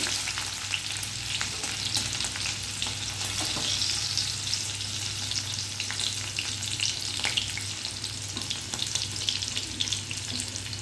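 Chopped chilli with ginger and garlic frying in hot oil for dry chilli okra, a steady close sizzle with crackling and occasional stirring scrapes, no talking.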